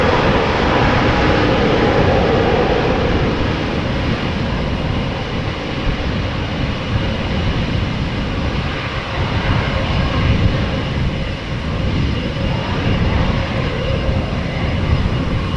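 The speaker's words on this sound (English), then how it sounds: "Singapore Airlines now on the move." A Singapore Airlines airliner on the move at Amsterdam Schiphol Airport gives a continuous, fairly distant jet rumble that holds steady with small swells throughout, with no talking.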